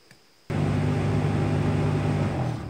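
A car's heater fan, powered through its wiring during an HVAC build, switches on after a brief quiet and runs as a steady, loud blowing whir with a low hum that holds to the end.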